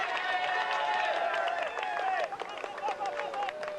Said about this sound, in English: Big crowd out enjoying watching him go past.